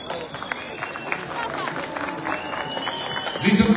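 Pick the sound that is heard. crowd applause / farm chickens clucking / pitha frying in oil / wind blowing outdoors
crowd applause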